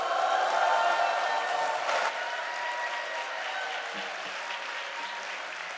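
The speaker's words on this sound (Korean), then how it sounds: "우리식의 박수를 좀 함성을 질러가면서 환영해 보겠습니다" Church congregation applause for a visiting pastor, a steady wash of clapping from many hands that eases slightly in volume after the first couple of seconds and carries on evenly.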